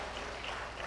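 Audience clapping at a youth empowerment summit for National Diaspora Day, a brief, dense and steady burst of applause with no speech.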